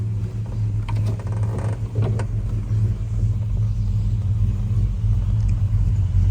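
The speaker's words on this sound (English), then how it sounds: "I got this car running, and it just runs really good." A 1968 Dodge Charger engine idles steadily with a deep, low rumble, running continuously with a brief rise in revs early on.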